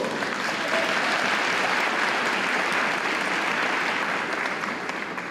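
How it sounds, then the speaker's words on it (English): A commencement crowd at UAPB's fall ceremony applauds graduates' families and friends, a broad, even wash of clapping that holds steady for over five seconds before easing off slightly, with no talk on top. "So give them a round of applause."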